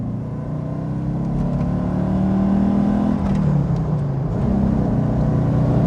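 An Alfa Romeo 33 engine revs and accelerates steadily from inside the car, a strong low drone rising and falling in pitch over several seconds with no talk.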